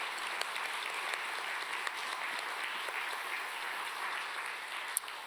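Audience applause after a string quartet's performance, a steady wash of clapping from a crowd that sounds somewhat distant and fairly soft, with a few sharper claps standing out.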